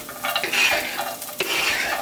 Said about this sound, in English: That sizzle though.